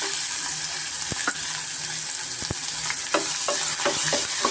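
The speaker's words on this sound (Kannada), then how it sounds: "ಇವಾಗ ಇದಕ್ಕೆ ನಾನು ಈರುಳ್ಳಿ ಸೇರಿಸ್ಕೊಳ್ತಾ ಇದ್ದೀನಿ" Onions fry in hot oil with fresh curry leaves for a tomato kurma, giving a steady close sizzle with sharp clicks and scrapes of stirring scattered through it. No one speaks.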